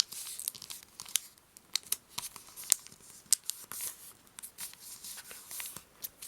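Paper being folded and creased into an origami seashell, a run of close, crisp crinkles and sharp rustling snaps at an irregular rhythm, with no talking.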